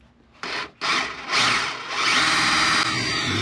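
Power drill boring into material with a bit, starting in short bursts with brief pauses before settling into a continuous, close, grinding whir that holds steady to the end.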